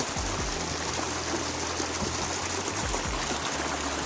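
A mountain stream on a trek path rushes steadily, a continuous broadband wash of flowing water, close and loud, with no voices.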